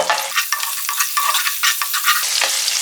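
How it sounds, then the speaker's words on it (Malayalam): Cashews and raisins fry in oil for a Malabar chicken biriyani, a bright steady sizzle broken by repeated scraping stirs of a spoon in the pan, close and loud with no talking. "ഉണക്ക മുന്തിരി ഇങ്ങനെ വീർത്ത് വരും എണ്ണ കിടന്ന് ഇങ്ങനെ ഇളക്കിക്കൊണ്ട് തന്നെ ഇരിക്കണം"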